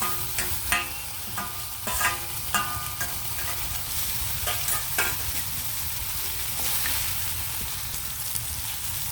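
Onions and tomatoes frying in oil for a mushroom curry give a steady, fairly quiet sizzle, with several sharp clinks and scrapes of stirring near the start and no talk.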